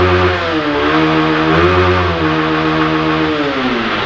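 Honda Start 160 motorcycle engine held at high revs against the rev limiter, a loud continuous buzzing drone that wavers slightly as the limiter cuts in, close to the bike.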